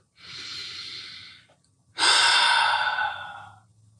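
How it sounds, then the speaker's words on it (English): A person takes two slow, deep breaths close to the microphone, a long airy inhale followed by a louder, fuller breath, with a short quiet gap between them. "Take a deep breath"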